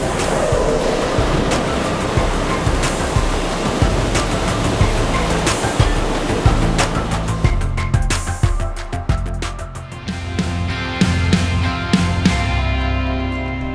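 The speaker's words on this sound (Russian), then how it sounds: "вот сейчас слышали удар, то есть он по инерции катится по путям и упирается в забашмаченные вагоны" An empty railcar coasts along tracks at the Abakan combined heat and power plant and bumps into chocked, coupled wagons. A steady broad rumble gives way to a run of loud metallic clanks and ringing knocks, close by.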